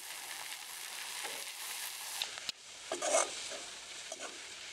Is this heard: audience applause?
no